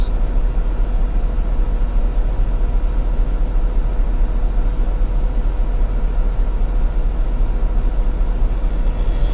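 An old PACCAR truck engine runs after EGR valve work with a loud, continuous, rough diesel churn. The low-pitched rumble holds steady and close for the whole stretch, with no voices.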